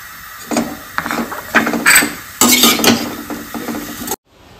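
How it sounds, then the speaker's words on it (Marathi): Jaggery and grated coconut being stirred together for a modak filling, a close series of scraping, clattering strokes of a spoon against the pan in an irregular rhythm, ending abruptly in silence. "गूळ घातले 1 वाटी, खोबरं 1 वाटी, चांगलं मिक्स करून घ्यायचं"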